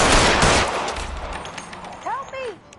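Gunfire in the LA Noire video game: a dense, loud burst of rapid shots at the start that fades over about a second and a half, followed by brief shouting voices.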